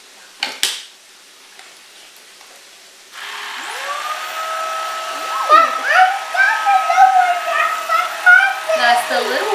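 Tineco A11 Hero cordless vacuum cleaner switching on after a couple of brief knocks, then running with a steady whine as debris rattles and clatters through it, close by.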